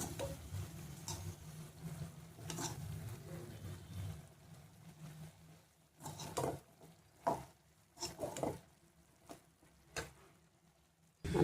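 Home-ground and Kashmiri chilli powder stirred into a frying mixture in a pan, with a soft sizzle under irregular scraping strokes of a spoon against the metal, close and fairly quiet, no talk.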